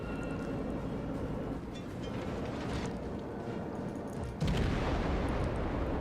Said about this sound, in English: His secondaries are firing at me